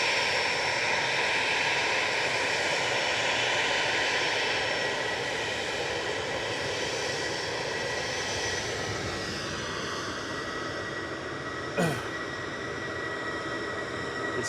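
An EasyJet airliner departs Manchester bound for Pisa, its jet engines a loud, continuous broadband roar with a steady whine that slowly fades and shifts in pitch as it moves away, ending with a brief sharp click.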